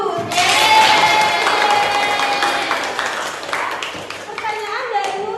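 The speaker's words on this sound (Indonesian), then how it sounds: "ayo tepuk tangan dulu" Classroom of children clapping together during a history lesson, a loud burst of dense applause that fades over several seconds while young voices chatter underneath.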